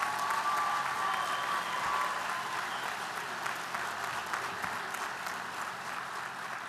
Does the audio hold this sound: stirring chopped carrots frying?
no